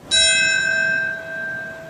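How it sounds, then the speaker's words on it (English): A single toll of a memorial bell at the World Trade Center site on the tenth anniversary of September 11, ringing out clearly with a bright strike and long sustained overtones that fade slowly, with no talk. "each marked by the toll of a bell, this place fell quiet"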